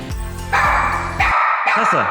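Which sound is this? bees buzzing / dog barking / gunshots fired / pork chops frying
dog barking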